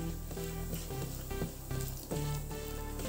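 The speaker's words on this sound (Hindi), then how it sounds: "फिर उसके बाद हम इसके अंदर डालेंगे थोड़ी सी सौंफ, यानी पिसी हुई ली है मैंने, और इनको थोड़ा सा भून लेंगे" Ground fennel roasts in hot oil for a spicy pea kachori filling, giving a dense, close, continuous sizzle broken by faint crackles and a few brief stirring scrapes.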